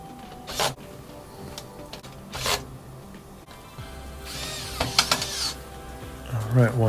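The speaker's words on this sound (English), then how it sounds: "I'll put in the top back panel," Screws being driven into the top back panel of a Maytag Bravo washer: short bursts of whirring driver and scraping clicks, fairly close but moderate in level, separated by quiet handling noises.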